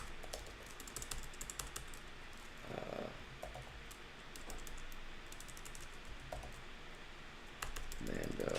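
Quick clicks of typing on a computer keyboard tap away at moderate distance, irregular bursts beneath a low background hum, with brief voices or noises rising between keystrokes.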